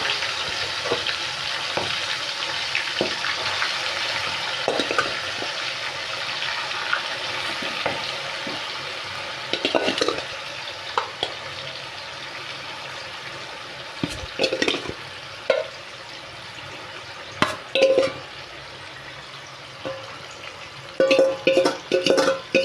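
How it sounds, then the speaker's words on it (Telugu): Chicken fries in hot oil in a pan for an Andhra-style chicken fry, a continuous close sizzle broken by repeated scraping stirs and clanks of a spatula against the pan, growing busier toward the end. "నూనె కాగింది, అందుట్లో కూర వేసుకుంటున్నాం"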